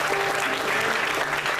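A church congregation applauds together during a worship meeting, a dense, steady wash of many hands clapping at close range, filling the room without a break.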